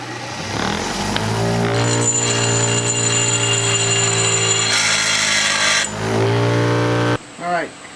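A bench grinder shapes the curved edge of an adze made from a lawn mower blade, giving a steady loud whine with harmonic tones for about seven seconds before cutting off, followed by a brief voice.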